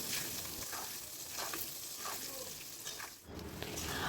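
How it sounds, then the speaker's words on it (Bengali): Cut potatoes frying in mustard oil with salt and turmeric, giving a dense, continuous sizzle that is moderately close, with faint stirring scrapes and a brief dip near the end. "এবার কেটে রাখা আলুগুলো এর মধ্যে দিয়ে দেব আলুগুলো বেশ লাল করে ভেজে নিতে হবে"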